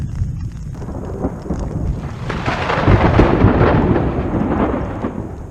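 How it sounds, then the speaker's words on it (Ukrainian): Heavy rain pours steadily on a tent in Romania while low thunder rumbles and swells, building to a louder roll before easing back under the downpour. "І саме першу ніч в Румунії я пережив з грозою"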